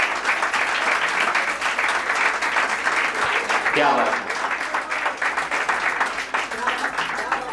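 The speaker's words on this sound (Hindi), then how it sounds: "और ये जो शोर है, ये जो कृतल ध्वनि है, ये रुकना नहीं चाहिए, थमना नहीं चाहिए।" Sustained applause fills a hall at a farewell gathering for an IAS coaching academy in Delhi, steady and dense throughout, with a voice speaking briefly over it.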